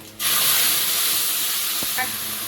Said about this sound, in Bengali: তেলের মধ্যে একটু গোটা জিরে তেজপাতা পড়ে যাচ্ছে